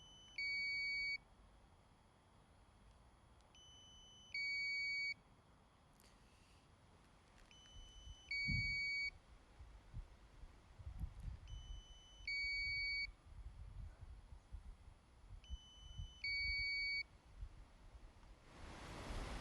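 During a drone roof inspection in Leamington Spa, the drone controller gives five evenly spaced bursts of high electronic double-tone beeping over a faint hiss and low wind rumble.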